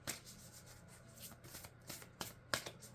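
A deck of cards is shuffled by hand, with quick riffling bursts and soft rubbing swishes close up and quiet, with no talking.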